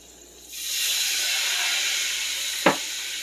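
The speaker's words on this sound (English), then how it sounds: "now you're going to want to go ahead and add in 5 ounces of water" Water poured into a hot pan of honey mustard chicken bursts into a loud, steady steaming hiss that holds for a few seconds, with a brief clunk near the end.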